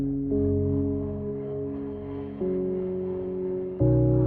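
A deep, sustained cinematic soundscape synth patch from the free Noctua plugin holds low droning chords that change twice, smooth and dark with no talking.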